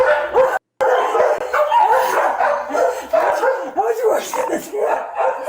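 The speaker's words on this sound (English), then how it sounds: "They are poodle breeders, which is why I'm sure all the barking." Several poodles bark and yip repeatedly, loud and close, in overlapping bursts, with a person's voice mixed in.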